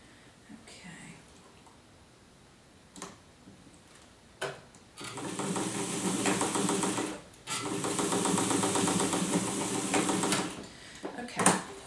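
Vintage sewing machine stitching a knit t-shirt seam, two long loud steady whirring runs with a short pause between, after quiet handling and light clicks at the start.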